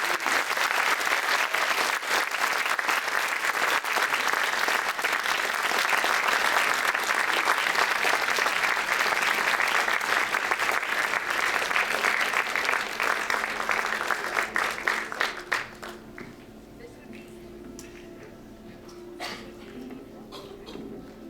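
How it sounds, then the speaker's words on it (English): Sustained audience applause, loud and dense for about fifteen seconds, then fading quickly into quiet room noise with a few scattered claps. "Yeah, round of applause."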